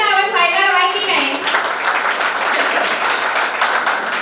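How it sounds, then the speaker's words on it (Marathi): An audience at a state-level Marathi poetry gathering bursts into applause, the clapping rising as a voice trails off at the start and then continuing thick and loud to the end. "तर टाळ्यांचा आवाज व्हायला हवाय की नाही?"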